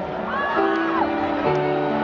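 A concert crowd in downtown Toronto at a show screams and whoops together, a loud, sustained mass of voices with rising and falling cries.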